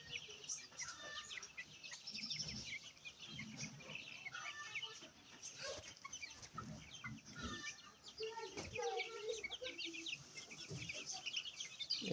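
Native desi hens cluck and murmur close by in a farmyard with their month-old chicks, irregular soft calls overlapping with faint chirps and background bustle throughout.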